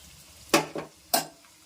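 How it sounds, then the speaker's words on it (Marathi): Garlic frying and browning in hot oil, cooked for dal khichdi, gives two or three short bursts of sizzle and crackle with quiet gaps in between. No one speaks. "आता मस्त लसूण छान खरपूस झालेला आहे बघा"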